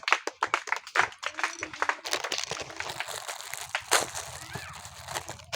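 An audience claps for a prize winner at a balloon-popping dart game, a burst of close, irregular claps that thins into softer scattered clapping mixed with crinkling and faint voices.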